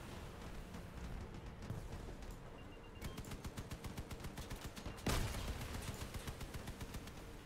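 Cannons fire in the vehicle combat game Crossout in a rapid series of sharp, loud blasts with a heavier boom midway, layered over constant engine and battle noise.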